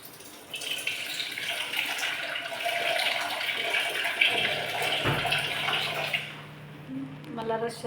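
Water poured from a vessel into chicken curry gravy, a steady close splash and trickle lasting several seconds before tapering into a few small drips and clinks of the pot.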